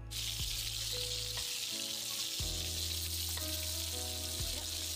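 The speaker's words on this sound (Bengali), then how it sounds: "মাছগুলো এখন লাল লাল করে ভেজে নেব, এপিট ওপিট লাল লাল করে ভেজে নেব" Fish fry in hot oil with a loud, steady sizzle that carries on without a break, heard up close with no voices.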